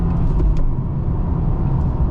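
A modified 2023 Subaru WRX with a manual transmission drives along with a loud, steady low engine rumble and road roar, heard from inside the car, with no clear rev changes over about two seconds.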